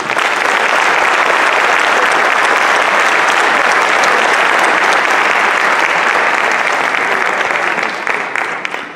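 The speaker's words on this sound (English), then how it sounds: "Please join me for an applause for General Yaya" A large audience at a community event applauds an Israeli general in a long, loud, steady wash of clapping from many hands, tapering off slightly near the end.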